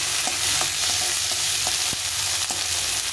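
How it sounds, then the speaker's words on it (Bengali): Tomato and onion fry in a pan while being stirred, giving a steady, close sizzle throughout with periodic scrapes and clicks from the spatula and no talking. "টমেটো পেঁয়াজটাকে ভালো করে ভেজে নেব"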